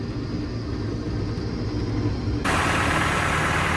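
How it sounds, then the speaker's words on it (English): A tractor engine idling as it warms up after a cold start, a steady close low rumble that holds even throughout, with a broadband hiss that jumps louder partway through. "Just letting the tractor warm up"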